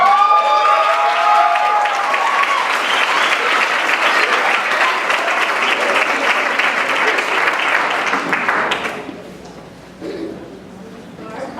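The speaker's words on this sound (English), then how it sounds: "Let's give her a round of applause." Sustained applause from a crowd, steady and dense for about nine seconds, then fading out to quieter room noise with a brief murmur.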